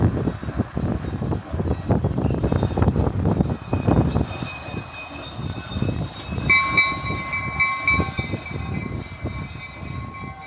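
Museum train on a Rocky Mountain heritage railway hauled by a small center cab switcher locomotive, a steady near rumble of engine and rolling wagons with clanks, later joined by sustained tonal squeals or horn-like notes.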